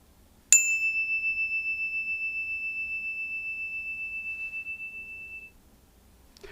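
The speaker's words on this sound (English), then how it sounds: "I brought a little bell with me, just a simple bell" A small, simple hand bell is tapped once, giving a bright, clear ring that lingers and slowly fades over about five seconds in a quiet room.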